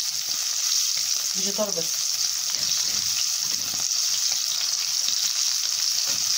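Eggs frying in oil in a pan give a loud, continuous bright hiss throughout, and a voice speaks briefly partway through.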